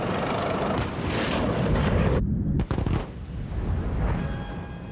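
A tank's main gun fires at a target, a loud close blast with a heavy rolling boom that rumbles on and decays, then a sharper secondary crack a moment later.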